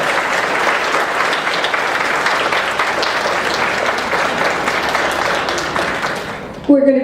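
A crowd applauds Leona at a folk dance anniversary event, steady dense clapping filling about seven seconds before tapering off, with a brief voice breaking in at the very end.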